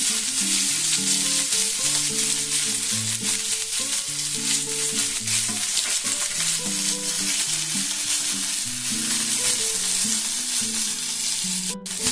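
Chopped onions fry in hot oil with a bay leaf and black cumin, a loud continuous sizzle with occasional stirring scrapes, close up and steady, with light background music.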